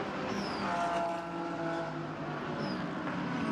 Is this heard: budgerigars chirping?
no